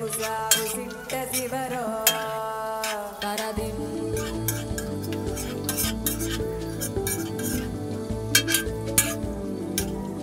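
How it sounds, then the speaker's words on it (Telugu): Onions fry in oil in a pan for a mixed vegetable curry, a steady close sizzle with repeated stirring scrapes and clinks of a metal spoon against the pan throughout. "ఈ ఉల్లిపాయలు కాస్త బంగారు రంగులో వచ్చే వరకు"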